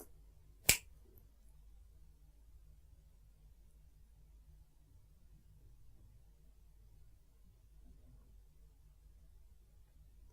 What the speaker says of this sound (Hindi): ये जो चुटकी बजाऊंगा इसकी आवाज को सुनना